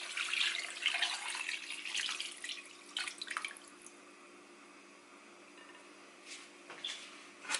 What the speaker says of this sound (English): I added water to this.